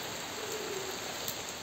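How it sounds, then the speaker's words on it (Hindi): Heavy rain falls on a garden as a dense, steady wash of hiss with no pauses, close and even throughout. "आज सुबह से ही बारिश हो रही है, काफ़ी ज़्यादा तेज़ बारिश हो रही है"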